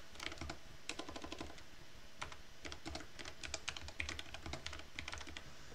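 Fast typing on a computer keyboard, with bursts of close, crisp key clicks in an uneven rhythm and short pauses between runs.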